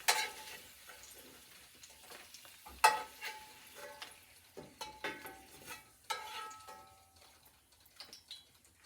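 Southern-style potatoes frying in a pan, a soft steady sizzle under repeated clinks and scrapes of a utensil turning them, irregular strokes close by with no talking.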